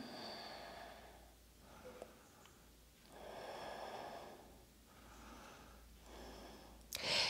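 Slow, deep yoga breathing, long drawn-out inhales and exhales following each other in an even rhythm, close and soft, ending in a brief sharper sound.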